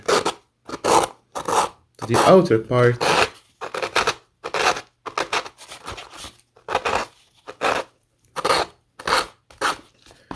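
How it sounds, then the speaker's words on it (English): Sandpaper rubbing excess paper off a decoupage edge, repeated short scraping strokes in an uneven rhythm, close and fairly loud, with a brief spoken phrase partway through. "to remove the excess, we just use a sandpaper like this"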